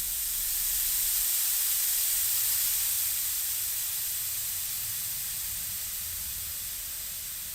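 A gas thruster fires through a 2mm straight-through nozzle fed by a solenoid valve, giving a loud, steady, broadband hiss that holds for several seconds and then slowly tapers.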